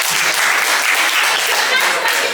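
Loud, dense applause from students at a school workshop, filling the whole moment as a continuous wash of clapping without talk on top.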